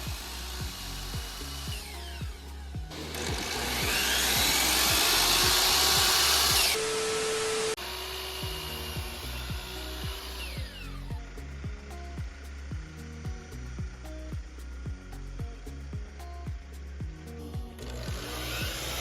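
A DeWalt 779/780 miter saw cuts through alder wood, a loud sustained whining cut lasting several seconds in the middle, set against a steady mechanical hum and tonal background before and after.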